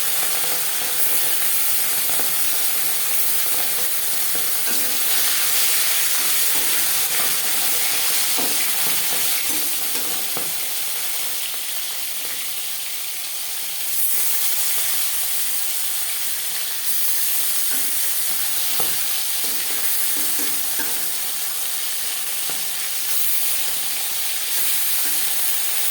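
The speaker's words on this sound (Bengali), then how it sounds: "চার চামচ রিফাইন্ড অয়েল গরম করে নিয়েছি এবার দিয়ে দেব লবণ হলুদ মেখে রাখা মাছ" Tilapia pieces rubbed with salt and turmeric frying in a few spoons of hot refined oil, a steady loud sizzle with crackling bursts running throughout, no talking.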